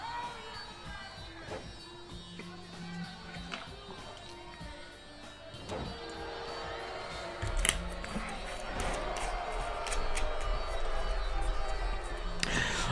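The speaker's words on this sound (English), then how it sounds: "for some reason the crowd boos every time Rara doesn't move" Arena crowd booing in a WWE 2K18 wrestling match sounds like a broad wash of crowd noise under clattering game sounds, swelling louder and fuller in the second half.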